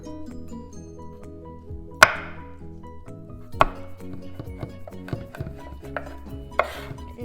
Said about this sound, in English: Then you gotta finally chop it.